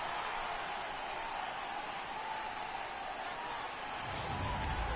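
A stadium crowd of over 39,000 cheering in a video game baseball broadcast, heard as a steady, dense roar throughout that swells slightly near the end.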